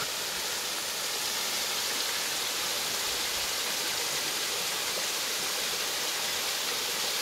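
Apple Orchard Falls in Botetourt County, Virginia, a waterfall a couple hundred feet tall, roars as a steady, dense broadband rush of falling water that holds constant throughout, with no voices.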